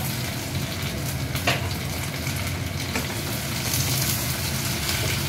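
Onion, garlic and green chilies frying in hot oil, a continuous loud sizzle with occasional stirring clicks and scrapes, no voices.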